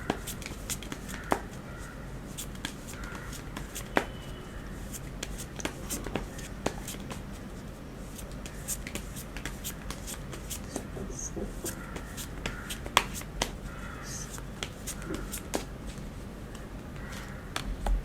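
Tarot cards are shuffled by hand during a reading, giving soft, quiet riffling and rustling with scattered light taps and slaps running steadily throughout.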